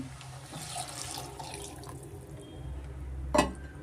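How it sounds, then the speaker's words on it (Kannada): Hot water pours steadily into a pot for vegetable bread pulao, a gentle running splash that ends with a brief clink of metal. "ನಾನು ಬಿಸಿನೀರು ಸೇರಿಸ್ತಾ ಇದ್ದೀನಿ."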